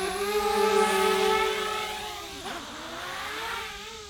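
A DJI Spark drone racing fast in sport mode, its high buzzing motor whine steady and fairly loud, with a brief pitch sweep partway through as it passes or maneuvers.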